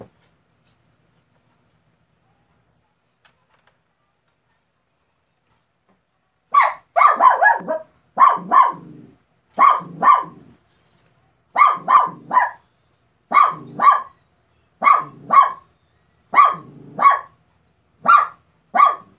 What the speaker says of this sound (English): he's just barking and barking and barking for no apparent reason